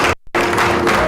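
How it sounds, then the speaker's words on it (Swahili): Applause from a crowd at a community event, dense and loud, briefly cut off for a moment before carrying on steadily. "makofi mazuri."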